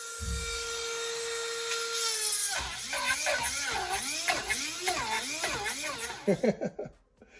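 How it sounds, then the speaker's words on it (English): A high-pitched Dremel rotary tool whines steadily, then its pitch wobbles and dips repeatedly as it drills a hole in an RC car bumper part, ending in a few sharp bursts. "That means I'm gonna have to drill that out for the V4 shock tower."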